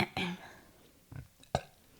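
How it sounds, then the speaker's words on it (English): A single person's burp stands out among a few short vocal bursts and pauses, loud and close, with brief voice sounds around it. "I don't ever burp. That needed to happen."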